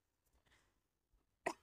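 A single short, sharp cough bursts out near the end after a few faint rustles while repotting a plant, close and fairly loud against near silence.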